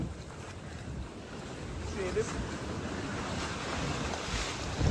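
Ocean surf and gusting wind fill the air out on open water near a boat, a steady broad wash with a brief voice passing under it.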